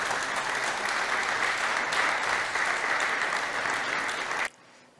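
Firefighters from a fire station applaud their departing chief, steady dense clapping from a group that runs strongly for several seconds and then cuts off abruptly near the end.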